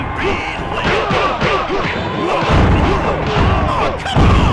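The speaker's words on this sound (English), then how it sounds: "Listen to the crowd!" Dense crowd roar from the WWF WrestleMania arcade game, loud and constant, mixed with punchy impact thuds and crashes and swooping in-game voice effects.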